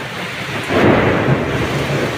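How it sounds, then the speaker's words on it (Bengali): Heavy rain pours down during a hailstorm, a dense, loud roar that swells midway with a low rumble of thunder, continuous and close. "গাইস প্রচন্ড জোরে বৃষ্টি নেমেছে, প্রচন্ড।"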